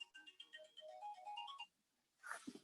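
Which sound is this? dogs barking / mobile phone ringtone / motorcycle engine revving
mobile phone ringtone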